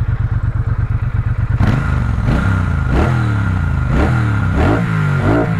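Triumph Bonneville T120 High Torque motorcycle engine idling with a steady loud pulse, then revved in a series of strong throttle blips that rise and fall about once a second, close to the bike.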